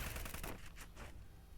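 Rapid automatic gunfire from a video game rattles in a quick burst, then a few separate shots ring out before trailing away, alone and fairly faint.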